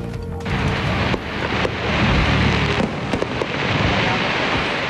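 Dense, continuous crackling and popping bursts of fireworks, loud and sustained with overlapping bangs throughout.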